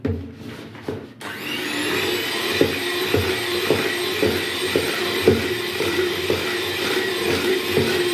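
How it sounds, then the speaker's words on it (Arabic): An electric hand mixer whips cream with powdered sugar and milk for a homemade gateau, running as a loud steady whir with a rhythmic knocking of the beaters against the bowl, close by and without talk. "هتقومي ضربه كل الحاجات ديت بالمضرب"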